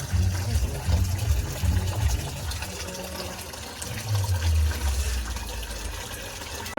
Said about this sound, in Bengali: এর মধ্যে এখন জল নেওয়া হচ্ছে।